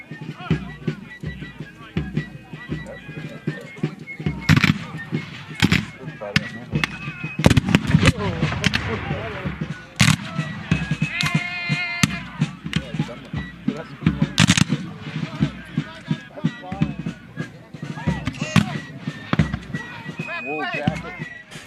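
Loud, sharp cannon booms burst out at irregular intervals at a Civil War battle reenactment, echoing over an outdoor crowd murmuring in the background.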